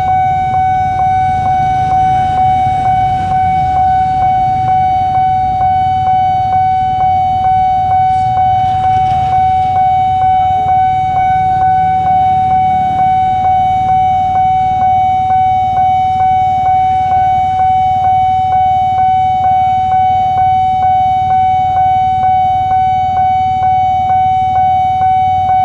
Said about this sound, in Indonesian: Keretanya klaksonnya udah bunyi.